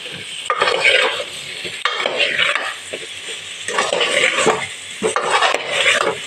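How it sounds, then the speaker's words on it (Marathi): Chopped raw mango being stirred with garlic and chili powder for a sweet pickle, giving a loud, continuous scraping and rustling in a pan. The strokes come in repeated sweeps with brief gaps between them. "लसणात आणि मिरचीच्या पावडरला आम्ही जो कैरी फिरवून घेऊ"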